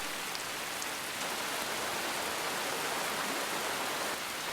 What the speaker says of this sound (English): The storm dumped rain on the normally arid desert.